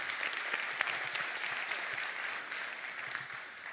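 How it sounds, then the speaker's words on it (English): Sustained audience applause at the SEC-T security conference, a steady dense wash of clapping from a large crowd that holds evenly throughout and fades slightly at the end. "a big round of applause for the SECTE organizers."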